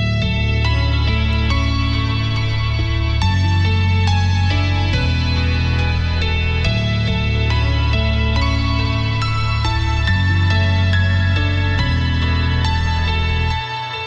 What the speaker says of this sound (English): Today I'm going to show you how to make some really nice pianos.